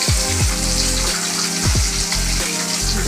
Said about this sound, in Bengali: মাছ ভাজা বসে দিলাম